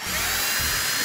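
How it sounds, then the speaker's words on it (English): A power drill bores out a part for an aluminum spool gun retrofit, a steady high whine holding close and loud through the whole moment with no talk. "All right, so I just drill this out."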